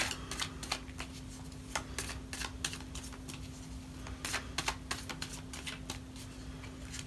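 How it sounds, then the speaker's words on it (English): Tarot cards being shuffled and pulled for a Scorpio love reading: soft, scattered riffs and slaps of cards, quiet and close, with a steady low hum underneath and no talking. "I'm going to pull one more card, okay, Scorpio?"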